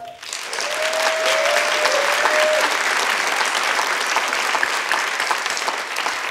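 Conference attendees at a float industry gathering give a round of applause, a thick, continuous clatter of many hands that swells quickly and stays full, with a brief tone near the start.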